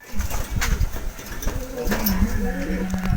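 Pet pigeons cooing close by in a low, throaty rolling rhythm, with someone talking over them and a faint mechanical hum underneath.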